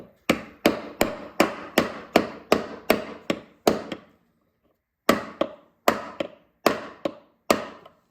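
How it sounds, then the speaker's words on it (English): Sharp hammer blows strike in a steady series of about fifteen while rebuilding a snowmobile recoil starter, each ringing briefly, with a short pause before the last few hits; no talking. "don't hammer too hard"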